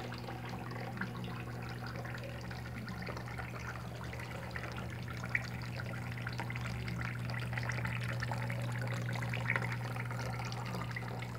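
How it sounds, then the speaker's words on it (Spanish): Water from a decorative grotto fountain cascades in a double fall and pours from jugs, a steady, continuous trickling splash heard up close over a low constant hum. "lleva doble caída de agua, mira, una cascada y también cae agua de las jarras"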